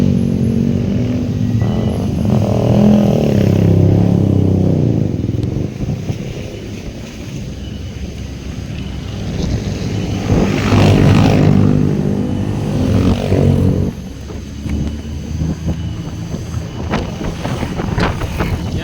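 An automatic scooter motorcycle rides along a road in rain, its engine hum mixed with heavy wind buffeting on the microphone, rising and falling in loudness throughout.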